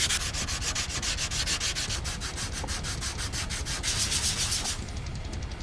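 A wooden chair is sanded by hand in quick, even back-and-forth strokes, a close rhythmic scratching that repeats steadily before stopping near the end, with no voices.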